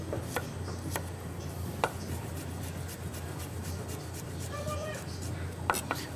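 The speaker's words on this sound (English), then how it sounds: "Run your knife through it so we can get it nice and fine." A knife rocks and taps on a cutting board, mincing garlic finely. Scattered light chopping clicks sound close, with a quiet room tone underneath.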